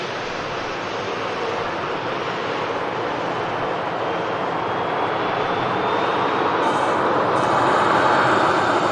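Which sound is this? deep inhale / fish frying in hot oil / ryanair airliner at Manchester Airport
ryanair airliner at Manchester Airport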